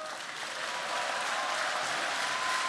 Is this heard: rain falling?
no